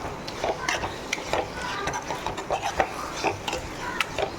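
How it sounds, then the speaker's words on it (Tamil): A spoon scraping and turning chicken liver curry in a pan makes repeated close, uneven clinks and scrapes over a soft background sizzle. "நல்லா பிரட்டிக்கலாம்"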